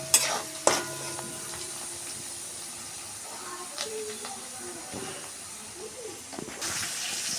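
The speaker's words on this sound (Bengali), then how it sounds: "এবার রসুনগুলো দিয়ে খুব ভালো করে সুন্দর করে ভেজে নেবো লাল লাল হওয়া পর্যন্ত" Grated garlic frying in a pan, a soft hiss and sizzle broken by sharp clinks and scrapes of stirring at the start and end; close, with no voices.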